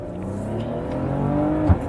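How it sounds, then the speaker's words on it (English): A 2019 Maserati Ghibli with a 3.0 twin-turbo V6 accelerates, its exhaust note climbing in a steady rising drone heard from inside the car, with a small pop near the end. "It has a good little spit to the exhaust note."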